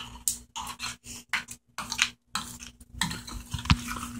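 Fried corn being stirred in a pan with the heat just turned off, giving irregular scraping and clinking of a utensil against the pan in short bursts, close and fairly loud, with gaps of near silence between strokes.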